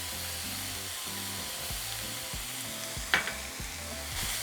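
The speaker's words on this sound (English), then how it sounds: "We're going to begin to break down our meat and just allow it to brown." Ground beef browning in a pan for an enchilada casserole, a steady low sizzle with a low hum beneath it and one sharp scrape or clatter partway through, no talking.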